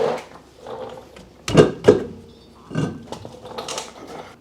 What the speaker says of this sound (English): And we can remove our wheel.